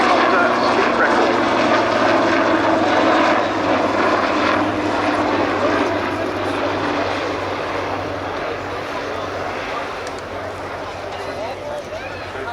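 An Army Lynx helicopter flies a display, a loud, steady broadband engine and rotor roar that fades slightly as it moves off. Crowd noise or commentary runs faintly underneath.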